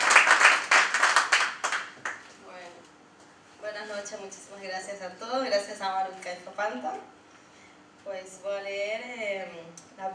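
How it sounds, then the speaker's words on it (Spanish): An audience at a poetry reading in Barcelona gives a short burst of brisk clapping for a first-time reader, fading within about two seconds before a voice begins speaking alone. "Fuerte aplauso para ella, por favor"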